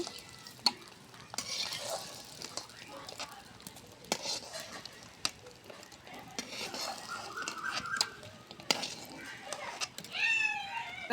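Garlic cloves and chopped onion frying in pure mustard oil, with a steady sizzle and scattered stirring scrapes and utensil clinks at close range, growing busier toward the end.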